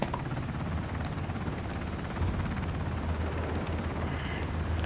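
A helicopter in Ring of Elysium, its rotor thudding in a dense, steady chop that stays loud and close throughout, with a low engine rumble beneath and no talking.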